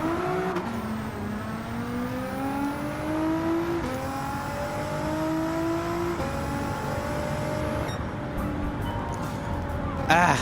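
Dodge Viper engine in a Gran Turismo 7 race, revving steadily with rising and falling gear pitch throughout, loud and continuous, with a brief shift-like break near the end.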